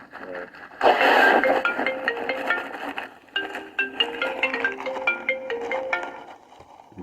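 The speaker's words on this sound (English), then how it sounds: "There, I get a phone call." Melodic phone ringtone for an incoming call playing in short repeated tonal phrases, fairly close, with a voice talking over the start.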